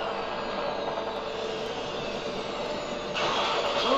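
A helicopter in the video game Uncharted: Drake's Fortune gives off a steady, moderately loud rotor and engine roar that swells slightly toward the end.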